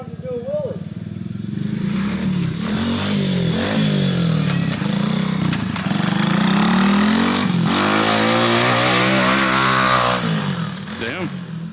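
A 125cc Chinese pit bike engine revving hard through a wheelie, loud and close, its pitch climbing and dropping across gear shifts before easing off toward idle.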